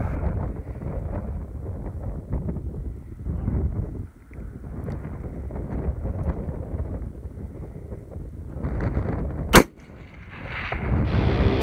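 A single sharp long-range rifle shot from a .338 Lapua or 6.5 Creedmoor cracks out loud late in the clip, over steady wind noise and outdoor rumble.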